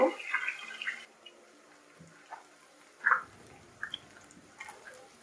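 Chicken pieces frying in a pan of hot oil give a hissing burst at first, then settle into a quieter, intermittent sizzle with occasional soft pops up close.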